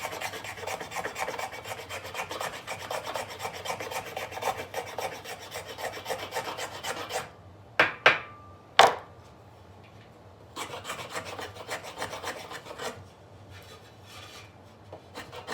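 An LT Wright knife carving flaps from wood: repeated close rasping strokes, a pause broken by a few sharp knocks, then more scraping bursts with no one talking.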